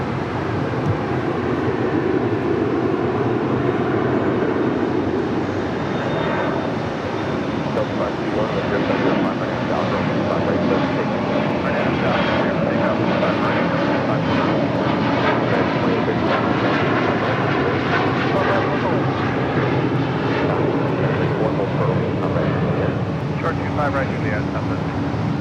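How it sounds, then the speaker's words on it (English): United Airlines Boeing 757-300 arriving at LAX from Denver: a loud, continuous jet roar with shifting whine that builds through the middle and stays strong to the end, with possible faint voices beneath. "That is United Airlines Flight 1093 coming in from Denver, Colorado"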